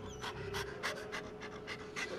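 A dog in the video game Deceit 2 pants in quick rhythmic breaths, about eight bursts in two seconds, close and clear over a steady low background hum, with no talking.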